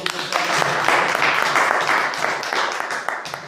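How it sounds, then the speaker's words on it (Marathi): A crowd at a political rally and protest march at Azad Maidan in Mumbai applauds in a dense, sustained burst of clapping that stays fairly loud throughout, with some voices mixed in. "आम्ही सगळे टाळ्या वाजवून"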